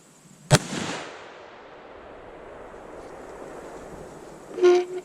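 A Savage Axis rifle in 25-06 fires a single sharp, loud gunshot at an outdoor range, followed by a long rolling echo that fades over several seconds, then a brief later clunk.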